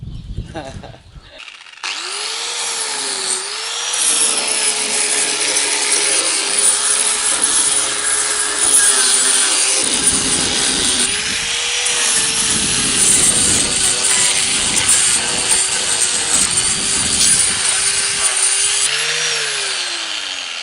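An electric sander runs continuously on wood, a loud steady buzzing drone with slight wavering pitch, close by and sustained throughout.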